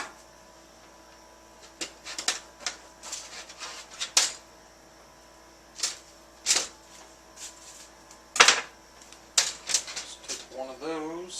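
A knife slices through a loaf of garlic bread, making crunchy, crackling cuts in irregular bursts of crisp crust breaking close by. Quiet talk is heard near the end.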